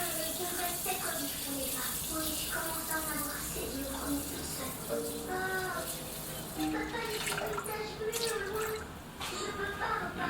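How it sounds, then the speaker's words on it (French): Water poured into a Thermomix TM6 bowl for cooking rice, a steady gurgling, splashing stream heard close for about ten seconds. "Et je vais venir mettre 600 g d'eau."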